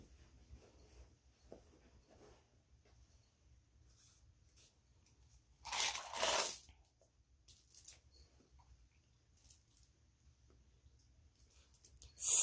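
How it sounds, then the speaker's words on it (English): Coins are dumped onto a table and sorted, starting with a loud clattering spill and then scattered sharp clicks as pieces are slid apart in an otherwise quiet room. "now I'm just going to dump out my coins and sort them"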